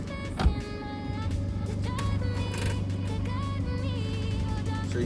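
A 2014 BMW 328i with a charging malfunction and battery light tries to start but fails: a steady electrical whine and hum from the car drones on for several seconds after a brief knock, fairly close, with no talk.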